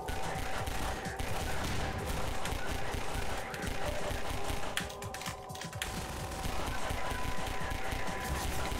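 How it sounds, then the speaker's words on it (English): Rapid gunfire bursts from a Half-Life 2 firefight crackle steadily and loudly across the whole stretch, with a short lull midway before the shooting resumes. "Where am I being shot from?"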